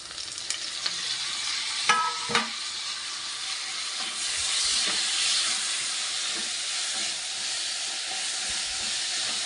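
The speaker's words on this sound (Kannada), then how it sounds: "ಇದು ಅಷ್ಟೇ ಚೆನ್ನಾಗಿ ಫ್ರೈ ಆಗಬೇಕು." Green chilies, byadagi chilies, dried red chilies and tomato frying in a pan with herbs, giving a continuous hissing sizzle with a few sharp clinks of a spoon early on and steady frying throughout.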